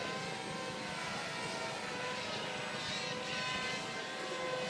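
An RC model airplane buzzes through the air in a combat event, its engine a steady, faint, distant drone without talk.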